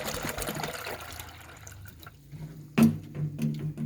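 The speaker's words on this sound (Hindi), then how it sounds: "अब इसमें 2 बाल्टी चावल थे, हम इसमें ऐड करेंगे 3 पानी की।" Water poured into a large pot of rice for cooking, two buckets of rice, with soft splashing that swells into a louder gush near the end, close by and alone.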